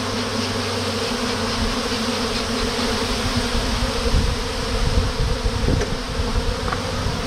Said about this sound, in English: You can see that they're flying in, and they're going right into their hive.